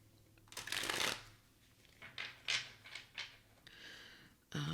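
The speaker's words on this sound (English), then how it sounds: "let me give this a good shuffle, actually." A deck of tarot cards being shuffled by hand: a loud riffling burst followed by several shorter, crisp card slaps and slides, close up and with no talk.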